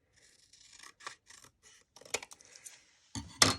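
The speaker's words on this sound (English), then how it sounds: "I'm going to cut this a little more straight." Scissors snipping through paper for a purse pocket and journal card, a run of short crisp cuts at close range, with a louder rustle and clack of the paper being handled at the end.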